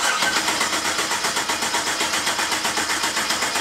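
A twin turbo Fox Body Mustang engine fires up for the first time and runs with a loud, lumpy, choppy idle, its steady pulsing exhaust close and continuous throughout.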